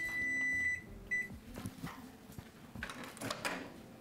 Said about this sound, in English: There's so many beeps happening.